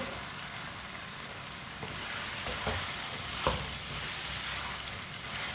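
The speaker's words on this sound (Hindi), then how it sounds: "कटे हुए टिंडे डाल लेंगे, टिंडे को भी मिक्स कर लेंगे" Chopped tinda gourd is mixed into chicken curry, giving a steady close sizzle with soft scrapes and occasional stirring knocks over a constant hiss.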